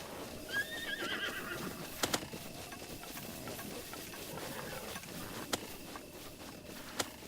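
A horse in Breath of the Wild gives a short, high whinny near the start, followed by soft hoof clip-clops and a few sharp clicks over a faint, quiet game backdrop.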